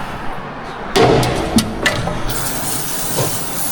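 A hissing aerosol spray starts abruptly and continues steadily, broken by a few sharp knocks and clicks, close to the listener.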